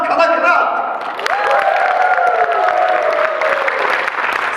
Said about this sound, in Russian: ваши аплодисменты второму конкурсанту